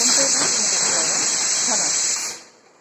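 Hot oil for a phodni tempering sizzles loudly in a pan for soybean curry, a steady hiss that holds for about two seconds, then drops away abruptly as the sizzle dies down.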